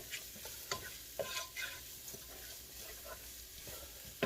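Onions, garlic, basil and bay leaves sweat in a pan, a soft low sizzle broken by several scraping stirs and light knocks of a utensil, close and fairly quiet, no voices.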